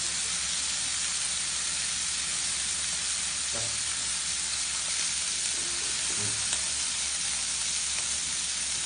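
Spices and shrimp fry in a pan with a constant, even sizzle and hiss, fairly quiet and close, broken by a couple of brief stirring knocks; no one speaks.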